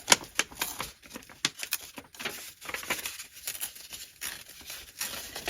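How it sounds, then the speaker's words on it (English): A sewing machine stitches through paper in quick, uneven rattling runs, close and fairly crisp, with short pauses between bursts. "And then you still could go run it through the sewing machine."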